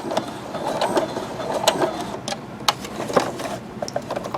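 A Brother SE625 sewing machine back-stitching a rope bowl runs in short, fast whirring and clattering bursts that start and stop, sounding close and fairly loud, with no talking.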